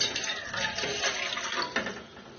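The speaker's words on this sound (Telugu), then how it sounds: "ఇప్పుడు స్టవ్ మీద మరో గిన్నె పెట్టుకుని 2 కప్పులు నీళ్లు వేసుకోవాలి." Water poured into a pot on a stove, a short close splashing gush that runs steadily for a couple of seconds at moderate loudness, no voices.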